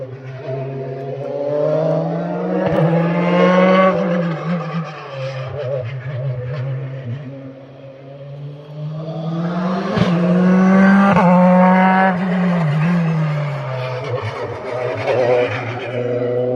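Open rally cars at the Rallye des Montagnes de Lyon in Limonest roar past on a mountain stage, engines revving and downshifting through corners with brief tire squeal, loud and sustained over about sixteen seconds.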